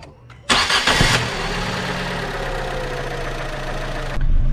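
A car engine cranks and catches with a loud burst, then settles into a steady, low warm-up idle that hums on evenly for several seconds.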